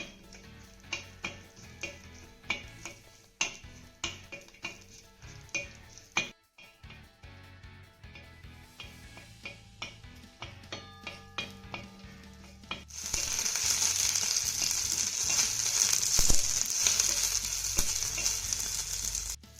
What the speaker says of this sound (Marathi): हा लसूण आणि मिरची आपल्याला डाग पडेपर्यंत चांगले भाजून घ्यायचे